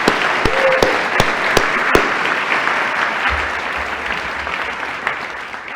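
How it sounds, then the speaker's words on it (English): Sustained applause from a large audience fills a university climate school class day ceremony, an even wash of clapping with a few sharper bangs near the start and a low rumble joining later. "let's have a round of applause for the families and everybody else"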